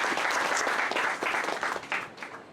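Applause fills a student leadership and ethics conference hall, a crowd clapping briskly and fairly close, thinning slightly toward the end of the brief burst.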